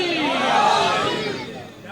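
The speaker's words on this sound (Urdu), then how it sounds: "دونوں ہاتھ بلند کر کے نعرے حیدری" A crowd at a Shia majlis gathering in Dhulian, hands raised, chants the Naara-e-Haidari slogan in a loud, sustained swell of many voices that fades slightly at the end.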